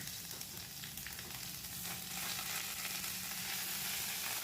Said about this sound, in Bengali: মশলাটা একটু নেড়ে নিচ্ছি